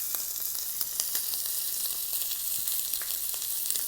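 Fat on a prime rib steak renders on a hot grill pan, giving a close, even sizzle with small pops and crackles throughout.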